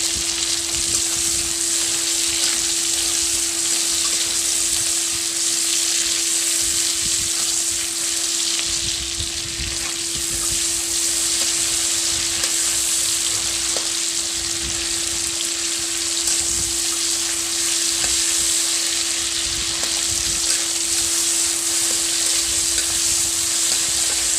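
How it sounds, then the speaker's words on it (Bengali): Chopped tomatoes sizzle in hot oil with a loud, steady crackle throughout, accompanied by a constant low electrical hum. "টমেটোটা দিয়ে ভালোভাবে ভেজে নেবো"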